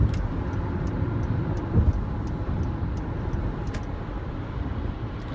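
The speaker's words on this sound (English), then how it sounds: "The semi truck is getting over and there's a car there." A semi truck and a car pass on the road, heard from inside a moving vehicle as a steady broad rumble of road and engine noise with a brief louder swell partway through.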